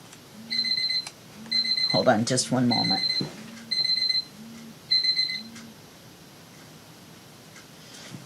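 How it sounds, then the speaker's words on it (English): A medicine timer alarm beeps in an even repeating pattern of five short bursts, close and steady, while a person speaks briefly over it. "Kind of glad my medicine timer went off."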